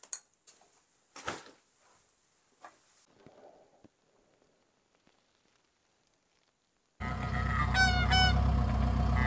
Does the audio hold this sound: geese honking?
yes